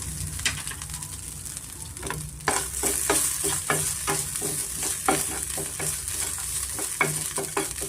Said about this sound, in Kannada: ಇದೇ ಬಿಸಿನಲ್ಲಿ ನಾನು ಕಾಯಿ ತುರಿನ ಸ್ವಲ್ಪ ಹುರಿದಿರ್ತೀನಿ